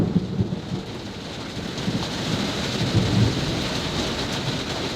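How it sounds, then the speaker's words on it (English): A thunderstorm rumbles through steady rain outdoors, low rolling thunder blending with a continuous hiss of rainfall for several seconds, no talking. "Got a little bit of lightning."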